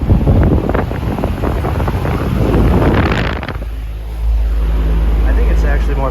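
A vintage Emerson Electric 30-inch pedestal fan, model K60, with its bearings only repacked, runs with a steady, loud whooshing rush of air and a low hum, and someone talks over it.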